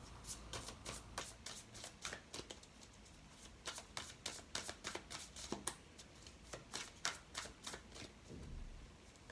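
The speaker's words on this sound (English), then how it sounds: "I'm going to pull a card from the Fairy Tarot deck here for you" A Fairy Tarot deck is shuffled close up, with a steady run of crisp card riffles and snaps repeating over several seconds and no voices.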